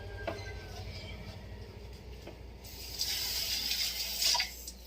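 Running tap water pours steadily into a kitchen sink while dishes are washed after cooking breakfast, a continuous splashing hiss that swells louder and brighter toward the end.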